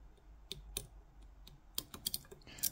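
Faint, tiny clicks come from lock pins setting as a Ruko mortice cylinder is picked. The soft, irregular clicks are close up and very quiet, with no speech.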